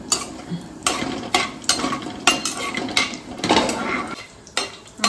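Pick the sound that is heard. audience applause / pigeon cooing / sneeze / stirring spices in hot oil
stirring spices in hot oil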